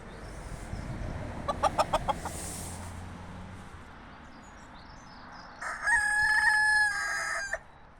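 A rooster crows on a farm, with a short burst of clucking early on and then one long, loud crow near the end, set against steady outdoor background noise.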